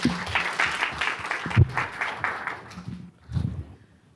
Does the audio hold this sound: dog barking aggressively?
no